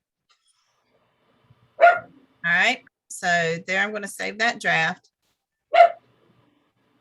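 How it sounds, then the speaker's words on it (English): A dog gives two short, sharp barks several seconds apart, with a person talking nearby in between. "What are you barking at?"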